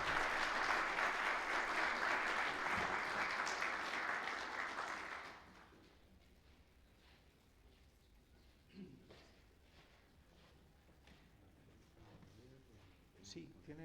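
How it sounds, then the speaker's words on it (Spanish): Strong applause from a lecture audience for an architecture talk fills the first five seconds, then drops off abruptly into a quiet room with faint rustles and a few stray sounds. "Un aplauso fuerte para Antonio"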